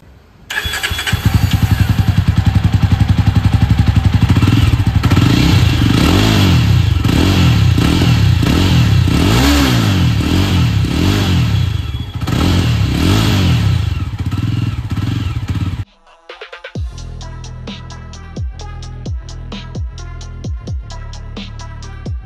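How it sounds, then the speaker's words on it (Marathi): A Jawa motorcycle engine with its silencer's dB killer removed roars at close range, revving up and down in repeated surges, then cuts to a slow, lumpy idle with distinct thumping beats. "आपण स्टॉक साऊंड ऐकणार आहे की बाईकचा स्टॉक साऊंड कसा आहे"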